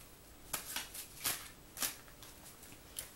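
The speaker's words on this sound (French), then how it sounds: "je vais piocher une carte" A deck of cards is shuffled and a card is drawn, giving a series of soft, quick riffles and flicks close by in a quiet room.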